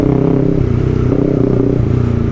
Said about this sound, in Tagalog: Grabe, solid talaga tong Arrow exhaust na to guys. Grabe, sakit sa tenga.